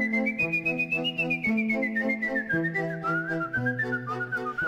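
A person whistles a clear, sustained melody of slowly descending notes over a steady low drone, with no talking.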